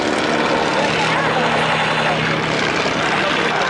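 Vintage Junkers CL1 ground attack aircraft flies past at an air festival, a steady broadband engine and propeller roar holding loud throughout over crowd noise, with a commentator's voice partly audible.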